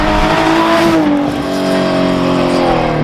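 Nissan 350Z fitted with long tube headers revs loudly and close, a dense harmonic engine roar whose pitch dips and swells as the throttle is worked, continuous for the whole stretch.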